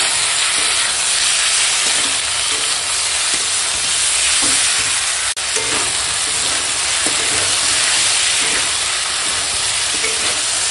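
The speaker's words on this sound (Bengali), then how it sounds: "আর দেখো এখানে আছে নুন হলুদ মাখানো চিংড়ি, কাঁচা লঙ্কা আর টমেটো কুচি সব দিয়ে দিলাম। একসঙ্গে কষাবো।" Shrimp rubbed with salt and turmeric sizzles with green chili and chopped tomato in a pan, giving a loud, continuous close hiss and crackle with occasional stirring knocks and one sharp click midway.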